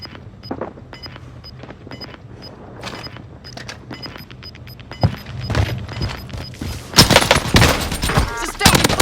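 Rapid bursts of gunfire in the Warzone video game, sparse shots at first then a dense, loud fusillade toward the end, with players talking over the action.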